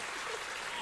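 Audience applause, a brief dense patter of many hands clapping at moderate volume, fading little over less than a second.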